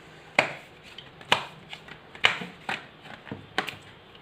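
Tarot cards being handled and drawn, a series of sharp papery snaps and slaps at irregular intervals with soft rustling between, close and moderately loud with no talking.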